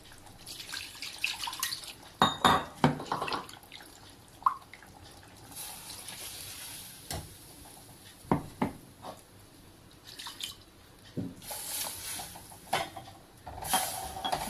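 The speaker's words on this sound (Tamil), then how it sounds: "மிக்சி ஜாரை கழுவி அந்த தண்ணியை நம்ம ஊற்றிக்கலாம்" Water splashes and swishes in bursts as a mixer jar is rinsed, with drips and a pour trickling into a pan of cooking salna, no voices.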